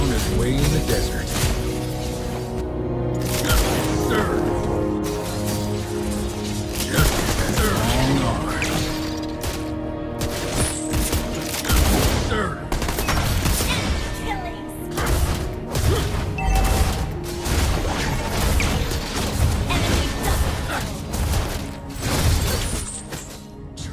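Gunfire and combat effects from a Mobile Legends: Bang Bang classic match, dense bursts of shots, crashes and booms layered over game music, with a voice speaking at times.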